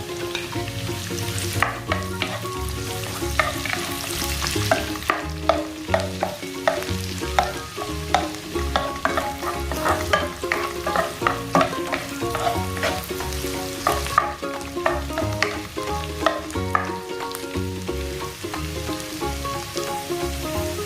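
Garlic sizzling and frying in a pan, a dense steady crackle with frequent sharp spatters and occasional stirring, close and moderately loud with no talking, in a Filipino mussel dish being sautéed.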